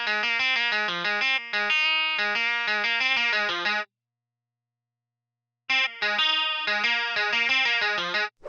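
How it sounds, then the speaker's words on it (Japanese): A programmed electric guitar line runs through a Boss chorus effect, with a shimmering, slightly wavering tone as it plays a steady chordal riff. Two loud phrases are split by a couple of seconds of silence. "コーラスを使う時のポイントはレートの設定です。"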